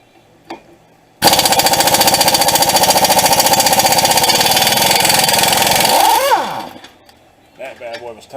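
Impact gun hammering on a tight 22 mm strut nut on a 2004 Honda Element, one loud close burst of rapid rattling lasting about five seconds before it winds down, with a short noise after.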